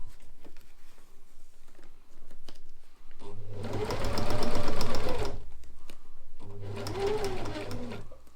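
A sewing machine hems a nylon tent footprint for a Fjallraven Abisko 1 Lite, running in two loud, close bursts of fast rhythmic stitching, with a reverse pass to lock the stitches and quiet handling noises between them.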